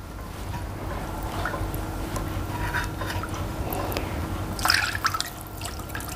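Half a cup of water is poured into a marinade bowl in a home kitchen, a steady liquid trickle and splash running several seconds, close and moderately loud, with a brief louder splash near the end.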